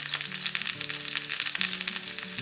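Green chilies hitting hot oil in a pan, a busy crackling sizzle with dense spitting pops, steady and close, loud and uninterrupted, with no talking.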